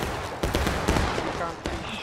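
Rifle fire on command in a battle video game, several sharp cracks scattered over a couple of seconds among game noise, with voices talking throughout.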